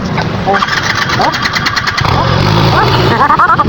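A motorcycle engine that has stalled several times on the road is cranked and sputters back toward running, loud and close, while people talk over it.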